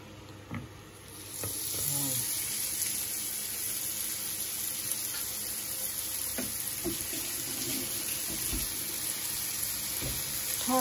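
Pork wrapped in bacon frying in a pan, giving a continuous bright sizzle with occasional clinks and stirring scrapes that sound close by.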